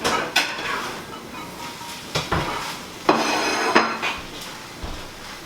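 Metal utensils clink and scrape against pans and plates while chilaquiles are served, a series of sharp, close knocks and scrapes spaced irregularly over a faint background sizzle.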